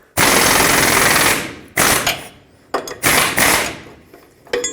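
An impact wrench on a swivel socket hammers at the lower control arm nut of a 2004-2008 Ford F-150, firing in three or four loud rattling bursts, the first one long, with short pauses between them.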